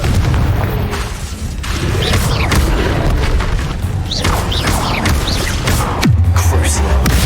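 Confringo, a fiery explosion spell in the Hogwarts Legacy video game, goes off with deep booming blasts and crackling bursts amid game combat effects, ending in a loud low thud and rumble.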